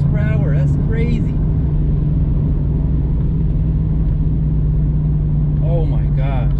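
A truck engine drones in a steady low rumble while cruising at 80 mph in fifth gear, heard from inside the cab, with brief speech at the start and end.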